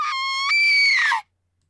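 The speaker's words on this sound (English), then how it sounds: "A scream." A single shrill, sustained scream rises in pitch partway through and then cuts off abruptly into silence, heard in the Fate/Stay Night visual novel as a girl is slashed with a sword.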